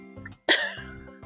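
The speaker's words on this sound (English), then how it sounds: "Turn your head and cough." A single sharp, loud cough bursts out over the steady tones of music from the farming game Harvest Moon: Hero of Leaf Valley.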